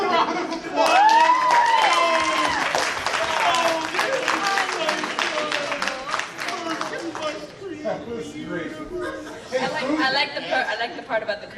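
An improv show audience breaks into applause and cheering mixed with lively chatter and laughter, with voices over the top of it. The clapping fades into murmuring toward the end.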